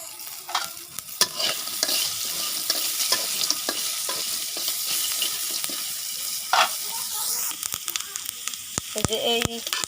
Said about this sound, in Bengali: যে এই শাকটা হলো ভাজতেছি এই কই মাছ দেওয়ার জন্য